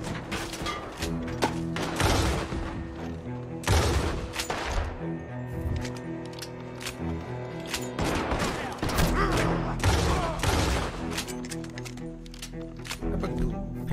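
Gunfire erupts in Red Dead Redemption 2 as loud repeated shots crack out in clustered volleys with booms and thuds, over a continuous hum of game music.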